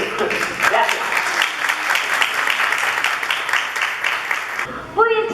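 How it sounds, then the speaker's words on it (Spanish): Loud sustained applause from a conference audience fills the room, dense and steady, then cuts off near the end as a voice begins. "Pido por favor que la reciban con cálidos aplausos"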